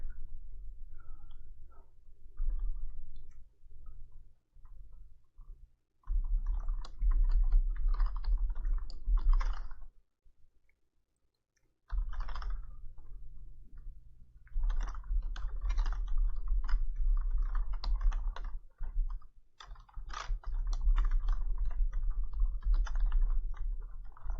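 Bursts of rapid computer keyboard typing, close and fairly quiet, come in irregular runs of clicks separated by short pauses, with a brief silent gap midway.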